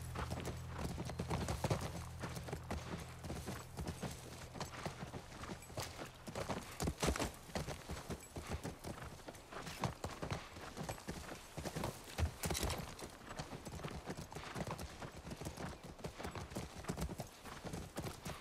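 Horse hooves clip-clop steadily through a game scene from The Last of Us, rhythmic and fairly close, with a low rumble under the opening seconds and scattered softer sounds around the trotting.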